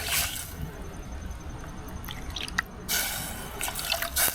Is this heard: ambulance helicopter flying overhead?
no